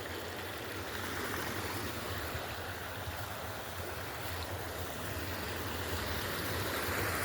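A creek flows in the Huckleberry Range, a steady broad rush of moving water with a faint low rumble, continuous and even throughout with no voices.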